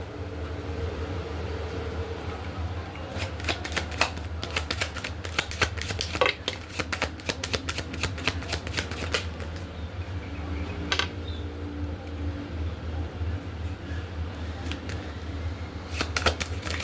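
Tarot cards handled and shuffled on a table: a long run of rapid, crisp riffling flutters, with scattered slaps and taps of cards close up, over a steady low hum.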